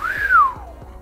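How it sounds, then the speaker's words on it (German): A person whistles one clear, close note that rises and then slides down. It stands alone against a quiet background. "Wer hat gerade gepfiffen?"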